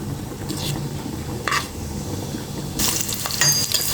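Whole biryani spices frying in a pan, giving a soft sizzle under faint background hum, broken by a few brief scraping stirs and a louder crackling rush near the end.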